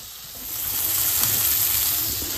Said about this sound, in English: Oh, and you can hear that sizzle.